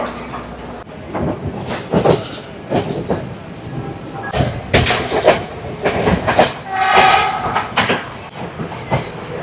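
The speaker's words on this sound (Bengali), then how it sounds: "ঢুকে গেছে আমাদের ট্রেন গামপাহা রেলওয়ে স্টেশনে।" A crowded train on a broad gauge line in Sri Lanka, pulling into Gampaha railway station, loud and close with rhythmic clattering of the wheels, rumbling carriages and a horn sounding near the end.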